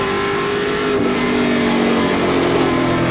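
Pro Stock race cars run wheel to wheel at Wiscasset Speedway, a loud steady engine roar with sustained revving and no break or talking.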